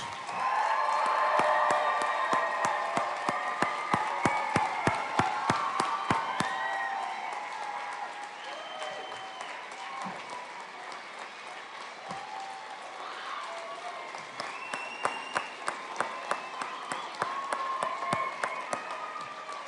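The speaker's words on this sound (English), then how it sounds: "Can we please have one more round of applause?" Sustained applause from a large audience at a graduation ceremony, a dense wash of clapping that rolls on steadily, with a few sharper claps standing out near the front.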